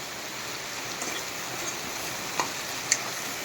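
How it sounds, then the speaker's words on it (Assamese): Potatoes frying with onion and tomato in a pan for a fish dish make a steady, even sizzling hiss, with a couple of faint clicks near the end and no voices. "এতিয়া ভাজি আছোঁ ভোল বিলাহী দি পেলাই"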